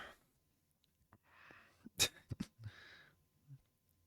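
A single sharp sneeze bursts out close by, surrounded by soft breathy sounds and faint rustling before and after.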